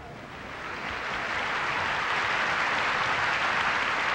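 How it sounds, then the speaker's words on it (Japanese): An arena crowd at Osaka Prefectural Gymnasium applauds steadily during a 1983 All Japan Women's pro wrestling event, the clapping swelling slightly and then holding as a broad, distant-sounding roar of hands. "しかし大阪体育会館のお客様はこのデビルマサミ、カランチュラに対しまして拍手を送っております。"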